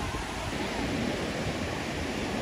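Ocean waves break and wash on a Baja California beach, heard as a steady broadband surf roar with some wind, continuous and fairly close.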